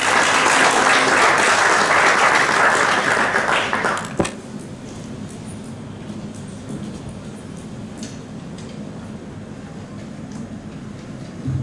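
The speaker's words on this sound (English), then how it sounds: "a round of applause for Yevan Chandra." A crowd claps loudly for about four seconds, then the applause drops away abruptly, leaving a quieter room murmur.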